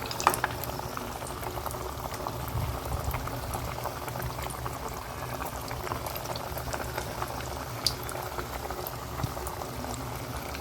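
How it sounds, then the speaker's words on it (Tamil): Carrot vadas drop into hot oil and fry with a steady bubbling hiss and occasional pops, heard close and fairly quiet with no talking. "இப்போ வந்து நான் இந்த வடையெல்லாம் போட்டுடுறேன்."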